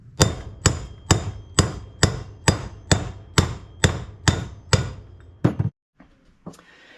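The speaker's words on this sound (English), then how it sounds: "we'll use the side of the hammer, and it's going to hit this old socket well enough to drive this bearing race down" A hammer strikes the side of an old socket to drive a bearing race down into a '55–'57 Chevy hub, eleven sharp metallic blows landing at a steady rhythm, close and loud, followed by silence and a few faint clinks.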